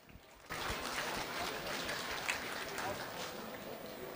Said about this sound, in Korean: 큰 박수를 맞아주시죠